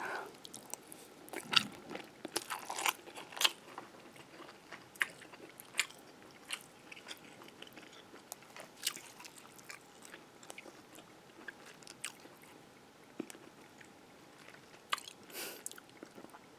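Close, soft chewing and biting of cooked hearts, with moist squishes and occasional crunchy bites coming in irregular bursts over a quiet background.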